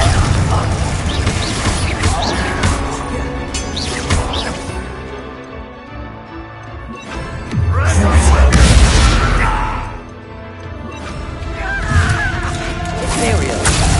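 Confringo fire spells blasting during a Hogwarts Legacy duel: loud, dense bursts, booms and crashes in repeated waves, with one heavy low blast near the middle, amid busy combat noise.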